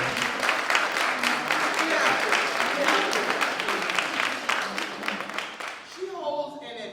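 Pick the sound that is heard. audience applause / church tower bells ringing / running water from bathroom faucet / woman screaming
audience applause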